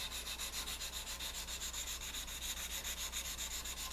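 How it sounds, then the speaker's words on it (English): A sanding block rubs back and forth on a sculpted Bowie knife handle in quick, even strokes, a soft rhythmic scratching that repeats steadily and close, with no talk. "I'll come back with my sanding block"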